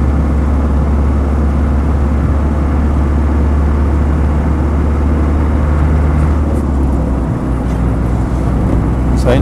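A Land Rover 90 2.5D hardtop diesel drives in top gear, its engine droning steadily and loudly from inside the cab with a constant low hum and road noise, a few faint clicks near the end.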